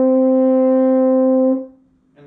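A single open-valve G played on the French horn holds steady and full for about a second and a half, then tapers off, with a faint trailing sound at the very end.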